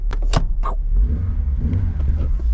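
A Vauxhall Astra courtesy car engine turns over and catches, then settles into a low rumbling idle with a couple of light revs, heard close up after a few sharp clicks and rattles.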